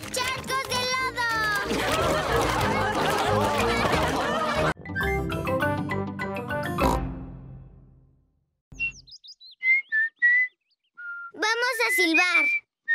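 Cartoon pigs try to whistle, giving several short, breathy, rising whistle notes with gaps between them. Before that, a long stretch of loud music plays under speech.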